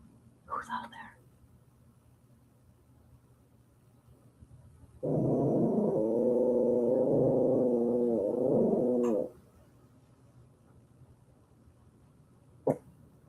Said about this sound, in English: Who are you growling at?